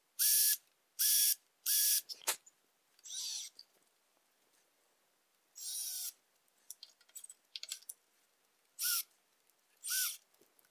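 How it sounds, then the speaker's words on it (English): Sheet metal screws are driven into a small craft paint booth with a power driver, heard close up as several short, loud whirring bursts separated by pauses and softer clicks and handling noises. "And then I'll mount this onto here with some sheet metal screws."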